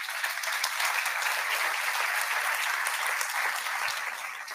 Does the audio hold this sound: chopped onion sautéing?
no